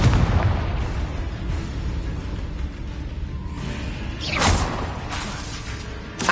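Confringo blasting spell in the video game Hogwarts Legacy, a sustained rumbling, crackling explosion blast with a brief swelling whoosh midway, under steady game background noise.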